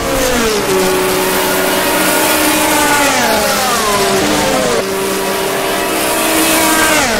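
A vintage racing car in a sim revs hard and continuously, its engine note climbing and dipping through throttle changes, loud and close with no voices.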